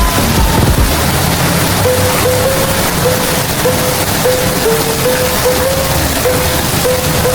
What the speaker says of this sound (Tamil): சரியான மழை, சரியாக அடித்து பெய்யுது மழை.